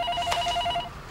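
A pager beeps with a short electronic tone, a quick series of bright pulsing beeps heard close and clear in a Korean drama scene.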